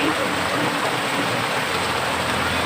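Heavy rain from Typhoon Ompong pours down in a dense, loud, unbroken hiss, close and steady throughout.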